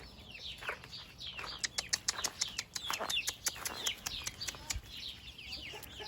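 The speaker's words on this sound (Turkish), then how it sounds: "Bakın beyaz gurk ve civcivleri" Chicks peep and chirp beside a white broody hen outdoors near a chicken coop, a busy overlapping chatter of short high calls with a few louder bursts, close by and without voices.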